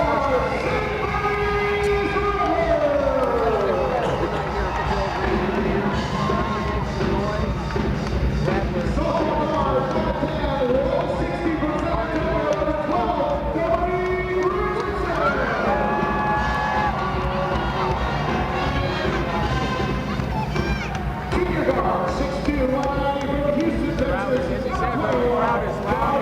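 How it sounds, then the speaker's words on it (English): A large, loud crowd roars at a college basketball game, a dense wall of cheering and shouting that holds steady throughout, with individual voices rising and falling within it and commentators talking over the noise. "Crowd is loud here tonight"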